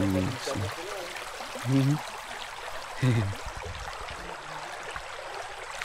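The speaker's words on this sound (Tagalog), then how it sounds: "andito na tayo sa ilog" River water flows in a steady broadband rush, with a voice talking over it in short bursts outdoors.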